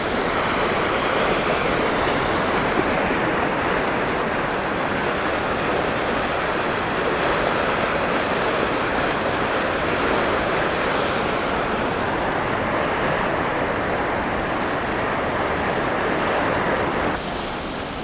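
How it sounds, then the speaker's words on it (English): Fast-running high river water in the Victorian High Country rushes steadily with a broad, continuous roar and some wind across the microphone, unbroken for the full length with no talking. "And that water, there's no way in the world that I would want to drive across. Look how fast that's running."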